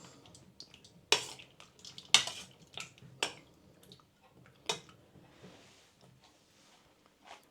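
Corned beef hash ingredients are stirred in a pan, giving intermittent metallic clinks and scrapes of a utensil against the pan with soft wet squishing between them, close up and without talking.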